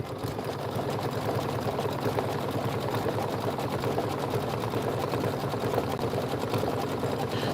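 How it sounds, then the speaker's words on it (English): An embroidery sewing machine runs steadily, stitching a decorative stitch around a mushroom house stem for a bunny boot and mushroom home project; the motor hum and rapid needle clatter stay constant and close throughout, with no talking. "I'm going to just go ahead and hit start, and it's going to sew the decorative stitch around your mushroom house stem"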